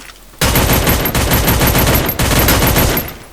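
Rapid, relentless bursts from a P90 submachine gun in the Free Fire mobile game, loud and close, a dense rattle after a quiet start with a short break partway through.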